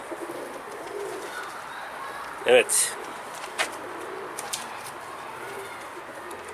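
A pigeon gives a short, soft coo close by, followed by a few faint chirps against quiet background noise; a brief spoken word occurs too.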